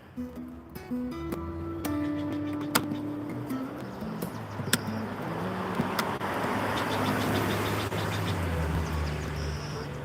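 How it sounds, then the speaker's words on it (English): Cars pass on a nearby road with a rising, steady traffic rumble, while scattered tonal tones and faint chirps sound at the start. "the natural landscape sounds of all the cars driving by."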